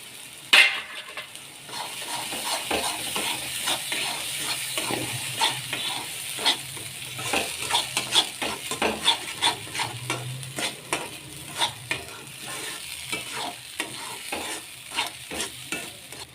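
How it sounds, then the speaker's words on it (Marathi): A ground peanut and dalia paste is stirred and fried in a pan for a drumstick-pod curry: a soft sizzle runs underneath while a spoon scrapes the pan in quick, regular strokes that grow sharper toward the end. "आणि आता आपण टाकूया शेंगदाणे आणि दालियाचा पेस्ट यामध्ये"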